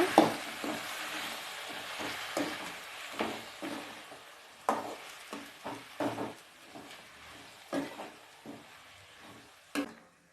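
Five finely chopped tomatoes sauté in a pan for spicy kaara chutney, with a low sizzle broken by repeated scraping stirs of a spoon against the pan, close and fairly quiet.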